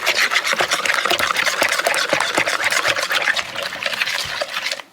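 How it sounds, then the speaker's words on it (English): Jerk seasoning is mixed in a bowl for fish, giving close, wet squelching and rubbing in quick, uneven strokes that go on steadily with no talking. "Now we're gonna give this a good mix so I can go ahead and get it onto this fish."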